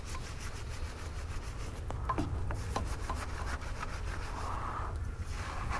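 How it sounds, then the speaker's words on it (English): A wheel brush scrubs a car wheel around the brake caliper during cleaning, making a steady, close bristly rubbing with a few sharper scrapes. "So if we were to just grab a wheel brush"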